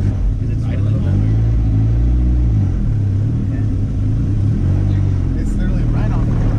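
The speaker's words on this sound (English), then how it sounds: "You're gonna have to give it some gas." Honda Civic wagon engine revving while idling high, with a loud low rumble that rises and falls in pitch across several throttle blips, heard from inside the car with talk over it.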